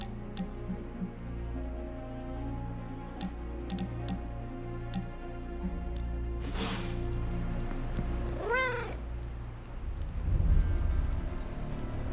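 Cat in the video game Marvel's Midnight Suns, one short meow among light clicks and ticks over a low steady background hum, fairly faint, no talk.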